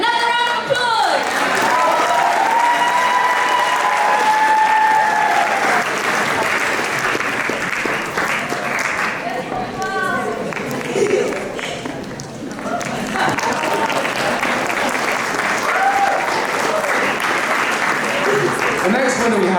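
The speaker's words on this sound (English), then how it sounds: "Another round of applause!" A crowd at a school Eid party applauds a prize winner: loud, sustained clapping from many people with cheering and chatter woven through, dipping briefly midway before swelling again.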